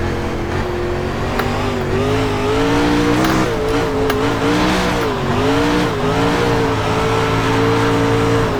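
Race car engine in the iRacing sim at a World of Outlaws dirt event at Lanier, revving steadily with rising and falling pitch throughout, loud and continuous with no talking.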